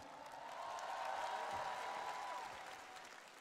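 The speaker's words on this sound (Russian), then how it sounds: "Сильвана Боне, ваши аплодисменты" Audience applause for Sylvain Bonnet at a business talk on direct sales, a faint, steady patter of clapping from a hall that swells and then fades out after a few seconds.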